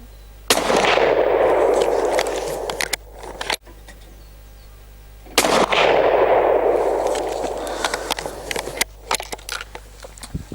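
Two loud, sharp shots from an Anschutz Model 1770 .223 rifle fired at potato and can targets outdoors, each followed by a long rolling echo, with faint clicks and rattles between them.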